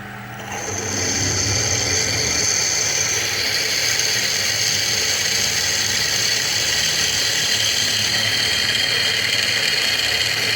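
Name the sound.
drill drilling holes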